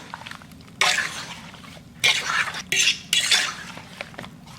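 Peaches are stirred into a mixture in a bowl for cobbler, giving several bursts of wet scraping and utensil clatter with short pauses between them, close by and with no voices.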